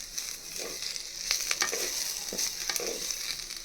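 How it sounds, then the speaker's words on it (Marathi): Onion fries in a clay pot over a medium-low flame, a steady close sizzle broken by several brief scraping stirs, with no talking. "तर या ठिकाणी आपला कांदा छान असा लालसर भाजत आलेला आहे"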